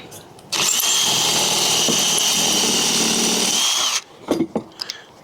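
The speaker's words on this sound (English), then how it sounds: "all I've got to do is just drill my pocket holes" A loud power drill whirs steadily into wood, drilling pocket holes for about three and a half seconds, then stops, followed by a few sharp clatters and knocks.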